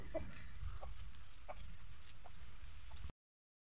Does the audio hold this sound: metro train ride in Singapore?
no